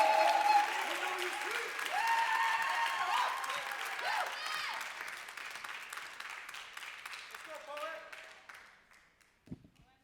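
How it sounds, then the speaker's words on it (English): A live spoken word poetry audience claps steadily as a poet walks to the stage, loud and sustained at first, then gradually thinning and fading out toward the end. "Clap it up, audience, all the way to the stage."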